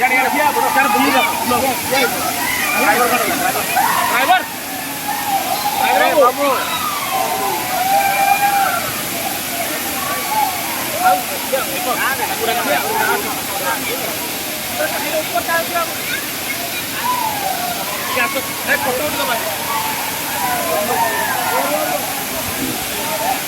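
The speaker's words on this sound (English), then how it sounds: "This waterfall." Gandahati waterfall in Gajapati sends up a continuous broad roar of rushing water, loud and close, with people's voices faintly mixed in.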